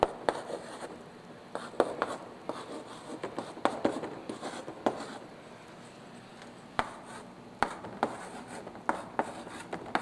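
Marker or chalk writing on a board during a church teaching session, soft rubbing strokes with scattered sharp taps, fairly close in a quiet room, with no speech over it.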